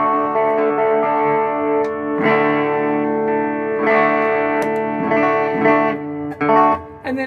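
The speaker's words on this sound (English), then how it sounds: "it's just got a simulation of a spring reverb" Electric guitar played through a pedalboard's simulated spring reverb, sustained chords ringing with lush wet tails, a few sharper strummed accents near the end, loud and alone.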